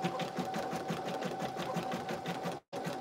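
Embroidery machine running at its lowest speed while stitching an in-the-hoop lip balm holder, a steady loud rhythmic whirring and needle thumping with a constant tone, briefly cutting out near the end before resuming.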